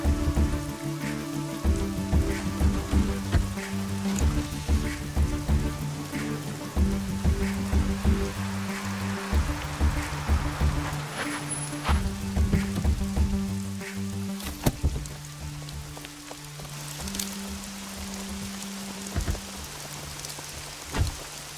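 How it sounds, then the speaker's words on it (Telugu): Heavy rain at night beats steadily on surfaces, with sustained hiss and scattered sharper drops, while tonal background music plays alongside in a film scene. "రాజమ్మా, ఏంటమ్మా ఈ వర్షంలో ఈ రాత్రిపూట ఏంటి?"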